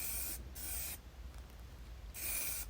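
Two bursts of aerosol spray hiss, each under a second, separated by a quiet pause, close to the microphone, as primer is sprayed on a Raleigh 20 folding bike frame.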